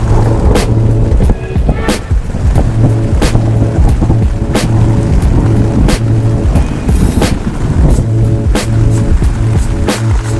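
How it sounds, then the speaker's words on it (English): Desert thunderstorm in the Tonto Desert, with dense rain pattering loudly and close, sharp cracks and rumbles of thunder scattered throughout, constant and heavy. "suddenly there's a barrage of lightning and thunder"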